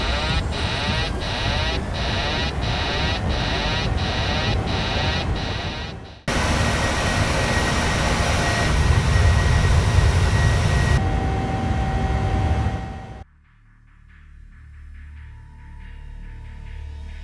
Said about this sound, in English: So they decided to go around and put the plane into a climb.